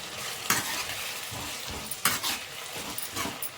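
Field beans (avarekalu) frying in a pan, a constant close sizzle broken by regular scraping strokes of a spatula being stirred through them.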